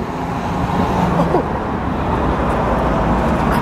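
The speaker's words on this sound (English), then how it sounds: "Four buses galore." Buses and other vehicles rumble steadily through city traffic near the Queen's Palace, a dense, continuous low roar with a passing vehicle swelling slightly, and a voice talks briefly over it.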